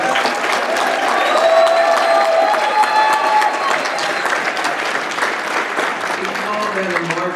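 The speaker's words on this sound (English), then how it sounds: "Let's give all our graduates another round of applause." An audience at a graduation banquet breaks into sustained applause for the graduates, a dense, steady wash of clapping that holds for several seconds. Faint musical tones and crowd voices run underneath.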